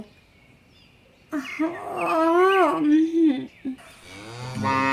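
A cow named Sundori moos loudly and close by in a long, drawn-out call with a rising and falling pitch, followed by a second shorter call, set against a faint background hiss.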